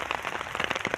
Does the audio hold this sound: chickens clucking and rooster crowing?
no